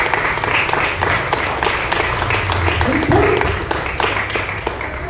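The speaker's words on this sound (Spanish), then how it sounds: "Denle un fuerte aplauso" Steady applause fills a church congregation, many hands clapping in a continuous, fairly loud wash, with murmuring voices and a brief vocal sound partway through.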